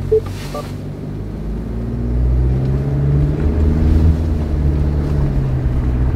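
A 2024 Subaru Crosstrek engine drones steadily under load while climbing uphill off-road, its low rumble rising and growing louder partway through, with wind buffeting the microphone.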